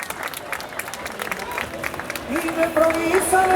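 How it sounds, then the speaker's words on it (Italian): Applause from an outdoor audience at a pizza acrobat show, clapping that grows louder and fuller toward the end, mixed with crowd noise, a voice speaking and music coming in. "E diamo un applauso a questa bellissima squadra dei team"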